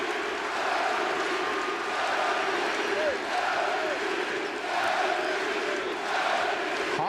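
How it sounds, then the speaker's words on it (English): A sellout crowd in a basketball arena roars in a sustained standing ovation for Kevin Garnett at a 2008 Celtics–Hawks playoff game, a dense, steady wash of cheering with a commentator's voice over it. "Well-deserved standing O from the sellout crowd."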